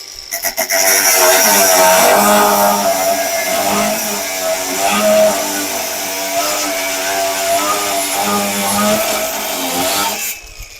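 A Procraft AG125B cordless angle grinder whines loudly and steadily for about ten seconds, its motor pitch shifting up and down as it runs through different speed settings, with no voices over it.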